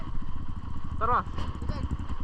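Trail motorcycle engine running on a mountain trail at Mount Bromo, a steady mid-pitched drone with a brief rising rev, heard close under continuous talking throughout.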